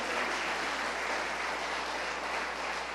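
A church congregation applauds steadily, with a continuous wash of many hands clapping at moderate loudness and no talk.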